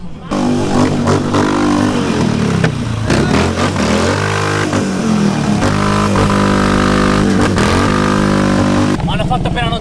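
Harley Davidson Sportster 883 Iron exhaust revving loudly and repeatedly up close, throaty bursts rising and falling in pitch across the whole stretch.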